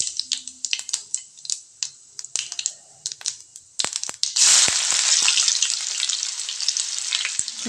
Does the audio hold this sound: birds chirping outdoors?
no